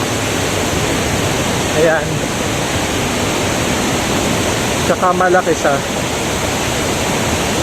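Buntot Palos Falls in Pangil, Laguna pours as a loud, constant broadband rush of falling water, with a person speaking briefly over it twice.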